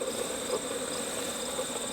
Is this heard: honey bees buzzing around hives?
yes